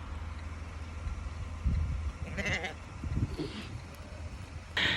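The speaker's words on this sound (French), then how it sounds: "J'ai filmé des moutons, j'essaierai de vous mettre des inserts, des petits moutons, ils sont trop mignons." Large sheep out in the Wicklow Mountains bleat in short calls scattered across a windy outdoor scene, a few louder bleats near the end, with faint voices in the background.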